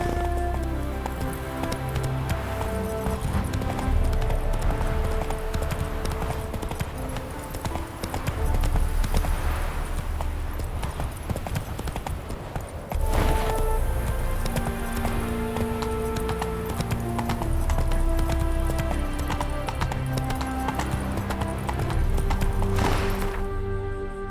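Hooves of the horse Roach clip-clop steadily in The Witcher 3 video game, a continuous rhythmic trot heard close and fairly loud over a busy background of game ambience and music.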